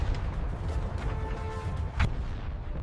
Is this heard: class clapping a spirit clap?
no